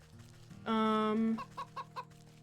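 Turkeys in the game Wytchwood: a loud, drawn-out nasal call gives way to a quick run of four short clucks, close and clear over a low background hum.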